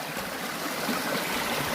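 A flowing river stream in a forest on Gunung Berembun, a steady broad rushing wash of water, moderately loud and unbroken, with no speech over it.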